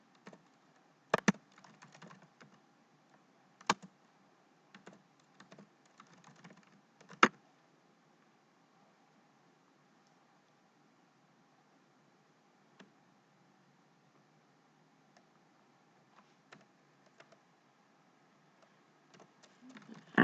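Code being typed on a computer keyboard, heard as scattered bursts of close key clicks with long quiet pauses in between and a faster flurry of keystrokes at the end.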